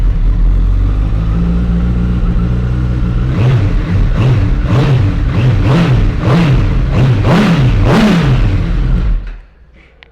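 A 2013 Honda CBR1000RR Fireblade motorcycle with a Scorpion exhaust starts and idles loudly, then gives a string of about eight sharp throttle blips in quick rhythm before cutting off near the end.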